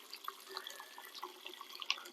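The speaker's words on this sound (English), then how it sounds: "a kettle full of recently boiled water, which I'm about to tip in there nice and slowly." Recently boiled water pours slowly from a kettle into a pot outdoors beside a camping stove, making a steady trickle with scattered drips and splashes, close and fairly quiet.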